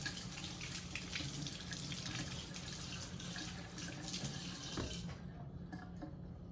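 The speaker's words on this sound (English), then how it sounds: "let me wash my hands again" Steady tap water pours into a sink during handwashing, a continuous broadband rush that cuts off abruptly near the end, leaving a quieter room.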